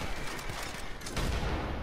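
Gunshots in Red Dead Online, a dense jumble of rapid shots and impacts in the middle distance, continuous through a brief moment of combat.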